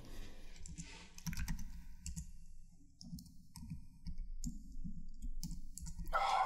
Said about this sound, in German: Ich kann heute nicht tippen.